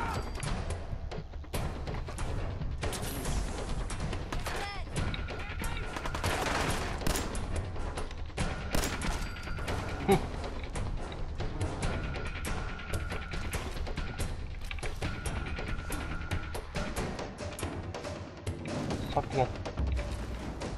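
Gunfire in the video game Fallout 4, a steady barrage of rapid shots and bursts with occasional heavier thuds, running throughout as players chat over it.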